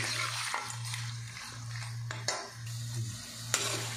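Food frying in oil in a karahi pan during home cooking of white karahi, a continuous close sizzle with intermittent clinks of a utensil against the pan and a low steady hum underneath.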